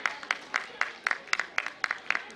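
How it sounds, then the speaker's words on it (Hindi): Faint, sparse clapping at a women's day event held by a Rajasthan Jain youth organisation, a few claps falling in a quick, regular rhythm against a quiet room. "जोरदार तालियां"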